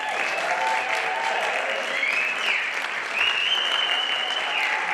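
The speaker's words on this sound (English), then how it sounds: "Please help me welcome Esteban and the Quartet" Steady audience applause fills a performing arts center as a quartet is welcomed to the stage at a concert, a dense even clapping wash with cheers rising above it, continuous and moderately loud throughout.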